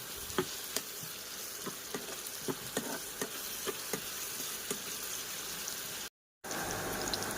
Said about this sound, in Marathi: छान लाल होईपर्यंत परतून घेऊया